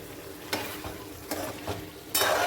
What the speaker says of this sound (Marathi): ते आता थोडं हलवून घेते